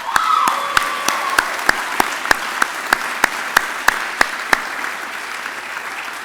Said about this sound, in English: How about a big Tony Robbins round of applause for all the people who made it possible there